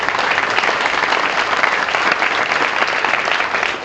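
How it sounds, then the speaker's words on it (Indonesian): Loud, dense applause from a large school crowd at an anniversary gathering, continuous clapping for a deputy regent that stays steady and close throughout without any talking over it. "Kita kasih apresiasi tepuk tangan dulu dong."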